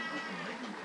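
A single drawn-out cat meow, wavering and fairly close, filling nearly a second with a quiet household background and no talk over it.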